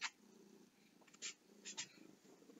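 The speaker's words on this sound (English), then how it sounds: "Who's that nice kitty?" A cat purring up close, a low steady rumble in soft pulsing cycles, with a few brief higher sounds on top in a quiet room.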